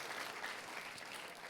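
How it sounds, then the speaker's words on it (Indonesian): A church congregation applauds, a soft, distant wash of many hands clapping that holds steady for a brief moment at low volume. "Kita kasih tepuk tangannya yang paling meriah buat Tuhan."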